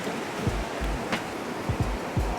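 Ocean surf washes continuously along a beach in Bali, a steady broadband rush with a few soft low thumps as waves break, heard fairly close with no voices over it.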